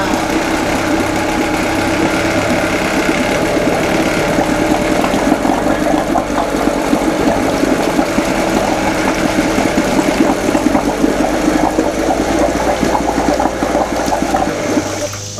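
A 1991 Johnson 3HP Seahorse outboard motor running with its throttle held open, a loud steady droning hum that continues unbroken throughout.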